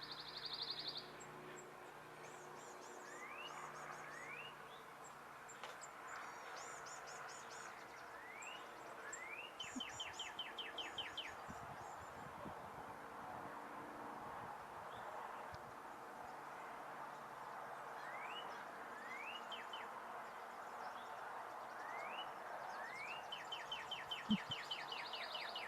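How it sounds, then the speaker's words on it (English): Northern cardinal song, a series of clear downslurred whistled phrases repeated in quick bursts, mid-distance against steady outdoor background ambience with faint other birds. "So here's a cardinal"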